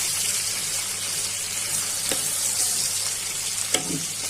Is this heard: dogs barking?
no